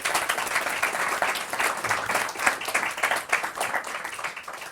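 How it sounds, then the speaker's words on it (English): A room full of symposium attendees gives sustained applause for the chair, Ella Whelan, at the London Symposium; dense, even clapping from many hands with no talking over it. "Can we also give a round of applause to our chair,"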